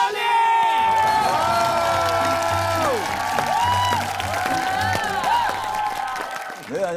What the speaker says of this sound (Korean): 자, 이번에 박수!